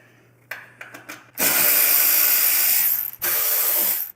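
Ratchet or power driver turning Torx 40 bolts on a motorcycle bagger fuel tank, a few short clicks followed by two sustained whirring bursts, close and fairly loud.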